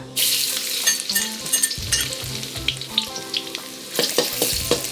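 Garlic sizzles loudly in hot oil in an iron wok, with steady crackling and the scrape of stirring throughout.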